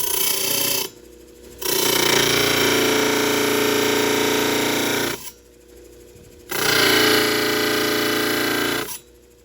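A Genie trim saw attachment grinds through a hard material, a loud, close, high-pitched whirring hum that runs in two long bursts of several seconds each, separated by brief pauses, with no talking.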